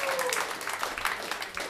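Audience applauding at a live funk concert, a steady wash of clapping that carries through the whole stretch at moderate loudness, without a voice over it.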